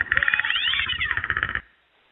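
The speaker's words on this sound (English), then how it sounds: "I think the cat's in trouble." A cat meows loudly and insistently in a drawn-out, wavering yowl with pulsing repetitions, close by, then stops abruptly into silence.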